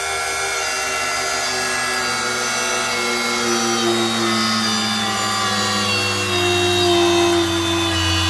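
A Grizzly G0704 CNC mill spindle runs flat out at 7,700 rpm, a loud, steady high-pitched whine with layered tonal hum that holds throughout, close and alone.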